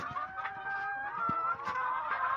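A flock of chickens eating a sack of lettuce keeps up steady, close clucking, with overlapping soft calls and short sharper squawks throughout.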